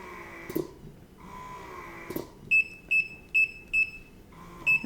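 Idaho Jones Twain breast pump running at setting 6, a slow cycling motor hum with sharp clicks and a run of short, evenly spaced high beeps, close and clear with no talking.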